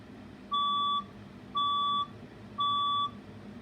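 A building fire alarm sounds during a test, giving three identical half-second electronic beeps at an even one-second rhythm, clear and steady over a low background hum.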